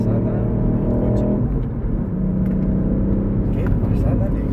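A 200 HP 2021 Ford Fiesta ST engine drones steadily while driving, with someone talking over the continuous hum.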